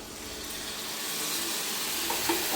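Spice masala sizzles steadily in a pan after a splash of water is added while cooking tengra fish with potato and long beans, a dense continuous hiss that swells slightly, with a few faint clinks near the end.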